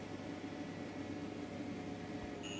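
A PowMr 6.2 kW inverter with an error 09 fault, charging at about 30 amps, gives a steady electrical growl and hum with a fizzing, sizzling hiss, constant and unbroken throughout.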